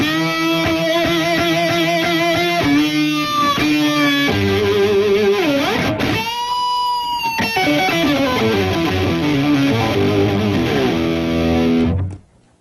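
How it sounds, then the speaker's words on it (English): A thick, gritty distorted electric guitar solo played through an octave pedal, with a doubled low octave under the notes, bends and runs, loud and close before cutting off. "I'll pop on that octave pedal."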